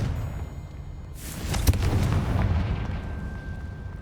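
A Confringo fire spell goes off in the video game Hogwarts Legacy, heard as a single booming blast with a sharp crack and a rolling tail that fades away over game ambience.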